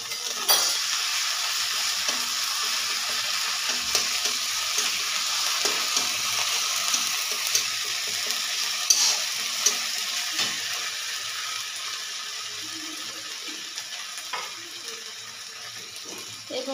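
Ginger, garlic and green chili paste frying in a pan for a carp and potato curry, a steady close sizzle broken by scattered scraping and clinking stir strokes, no voices.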